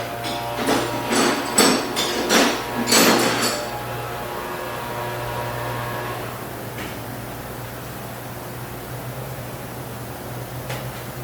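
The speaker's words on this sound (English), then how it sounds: "Might have to get a punch and drive that thing all the way out." A punch is struck with a hammer to drive a stuck part out of a Shovelhead motorcycle engine during teardown: a quick burst of sharp metallic blows in the first few seconds, then a steady background hum with a faint tap later.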